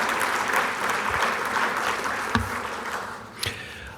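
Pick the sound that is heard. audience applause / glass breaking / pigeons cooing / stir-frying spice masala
audience applause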